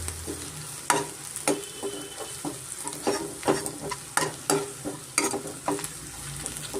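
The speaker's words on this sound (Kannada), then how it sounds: "ಆನಿಯನ್ನು ಚೆನ್ನಾಗಿ ಫ್ರೈ ಆಗಿದೆ ನೋಡಿ" Onions frying in a pan for a chicken fry, with a steady background sizzle broken by repeated sharp scraping strokes of a spoon stirring, close and fairly loud, with no talking.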